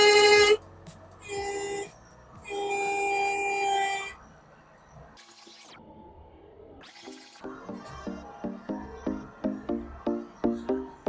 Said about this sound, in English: We'll give him a little honk.